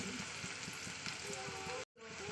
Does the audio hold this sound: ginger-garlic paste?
yes